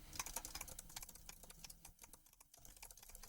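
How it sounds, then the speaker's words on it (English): Typing on a computer keyboard, picked up by a Maono PD300X microphone: a steady, fast stream of close, crisp key clicks with a few brief pauses, with no talking. "we'll go ahead and do some typing on the keyboard"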